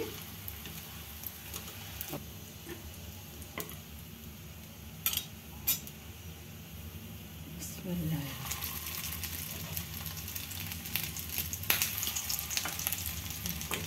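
Hyderabadi mutton shami kebabs fry in a little oil in a pan, a soft steady sizzle that swells louder partway through, with occasional clicks of a utensil turning them and someone talking quietly over it.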